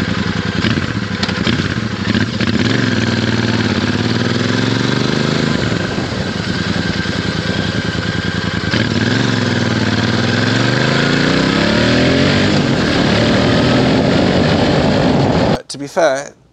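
A Meteor 650 motorcycle engine runs loud and close for about fifteen seconds with a steady, throbbing note that rises and falls slightly, then cuts off abruptly near the end.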